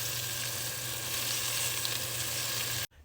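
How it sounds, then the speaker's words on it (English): Beef stew meat searing and browning in oil as the pieces are turned produces a steady, fairly soft sizzle with fine crackle that runs evenly, then cuts off abruptly just before the end, with no voices. "we're going to start turning the meat over and getting a nice crust built up on the opposite side of the meat"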